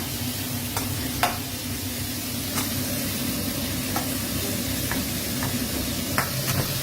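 Garlic stir-frying over high heat in a hot pan, a steady loud sizzle with scattered sharp scrapes and clinks of the spatula, no voices.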